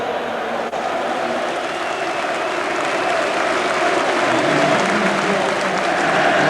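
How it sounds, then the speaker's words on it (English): Home football crowd at a Derby County match against Arsenal applauding a victory, a steady, dense wash of clapping and crowd noise holding loud and even throughout. "the crowd stand to applaud"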